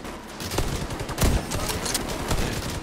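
A minigun fires in The Division 2 as a dense, continuous roar of rapid shots that stays loud and close for the whole stretch, with a few heavier bursts standing out.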